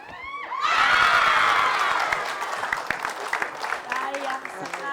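An audience cheers and applauds loudly for Ibu Nani on a comedy stage show, a swelling burst of clapping and shouting that stays strong before slowly thinning out.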